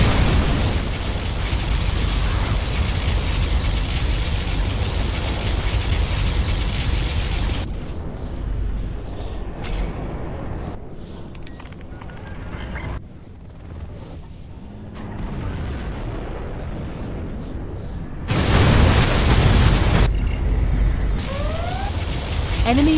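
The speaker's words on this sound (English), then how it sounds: "Particle cannon activated." Particle cannon strikes in the C&C Generals Zero Hour video game: loud, sustained roaring blasts and rumbling explosions filling the scene, with a brief drop to quieter crackling debris before another heavy roar returns.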